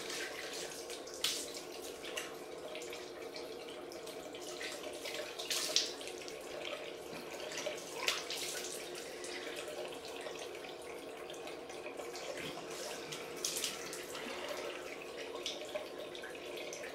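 A tap runs steadily while shaving product is rinsed off a freshly shaved head, a continuous hiss of flowing water with small splashes and spatters on top, fairly close, with no talking.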